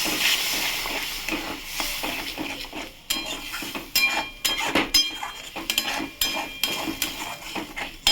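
Fish in a mustard gravy is sautéed in a pan with a splash of water, giving a steady soft hiss under repeated clinks and scrapes of a spatula against the pan.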